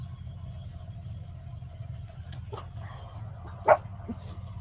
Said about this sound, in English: What are we barking at, guys?